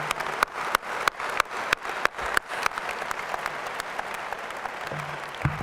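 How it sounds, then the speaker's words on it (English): An audience at a UNC journalism school commencement on Mother's Day breaks into steady applause for the mothers. The dense, even clapping fills the hall and holds at a constant level throughout, with a few louder claps near the start. "so let's give them a round of applause"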